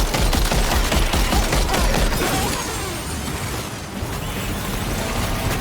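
A dense, rapid burst of gunfire rattles loudly in the video game Death Stranding 2. The volleys merge into a continuous crackling roar that eases off slightly toward the end.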